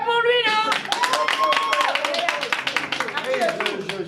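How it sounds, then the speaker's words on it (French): Audience at a Lions Club event in Abomey applauding, sharp irregular claps rising under a speaking voice, with a sustained tone at the start. "applaudissez pour lui"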